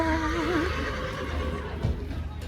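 A pony whinnies in a horse trailer, a wavering high call early on, followed by low thumps and rumbling, fairly close and alone without talk.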